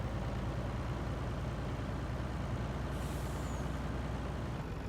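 A truck in Farming Simulator 19 rumbles steadily with a constant low engine drone, and a brief hiss like an air brake comes near the middle.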